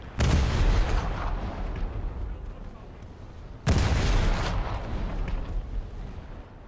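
Naval guns aboard the frigate HMS Leopard (F14) fire in War Thunder, two heavy booming shots about three and a half seconds apart, each with a loud sharp onset and a long rumbling decay, with no other sound between them.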